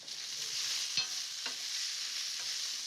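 Crushed garlic frying with onion in a pan, a bright, continuous sizzle broken by a couple of short stirring knocks, close by and without any voices.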